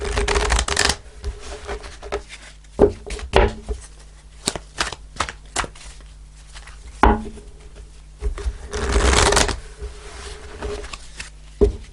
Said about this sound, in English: I want to shuffle the cards